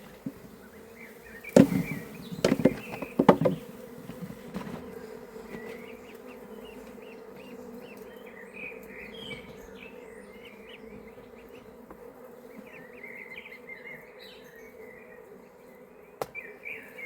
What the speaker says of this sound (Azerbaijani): Bir də bu cür yeni qabarmış çərçivənin üzərindəki arıları